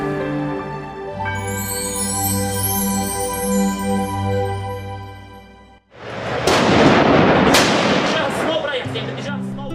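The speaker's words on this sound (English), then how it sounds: "At the sound of gunfire, everyone looks fearful and apprehensive." Gunfire during the Syrian civil war: a stretch of music cuts off abruptly, and loud, booming shots follow, landing in irregular bursts with rumbling echoes between them.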